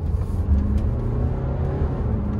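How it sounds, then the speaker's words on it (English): BMW 328d diesel sedan under full-throttle acceleration, a steady close engine rumble and whir rising continuously through the run, with no talk over it. "we're going to be doing a little acceleration test. I'm going to mash the gas right now"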